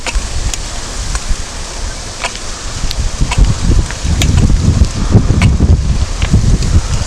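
Strong wind pummels the microphone with loud, constant rumbling gusts, swelling heavier toward the end, while faint rustling and crackles come through the roar.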